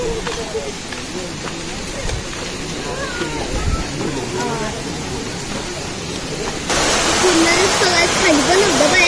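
A monsoon-swollen waterfall roars as a steady broadband rush, growing louder toward the end, with people chatting over it.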